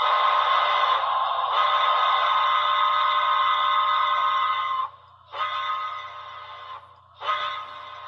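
A model steam whistle blows one long, steady, bright chord, then gives two shorter toots, close and clear with nothing else behind it.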